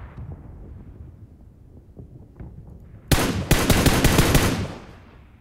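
A loud burst of automatic gunfire rips through a shootout in a video game, lasting over a second after a quieter stretch of background game noise.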